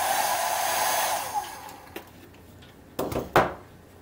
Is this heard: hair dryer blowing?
yes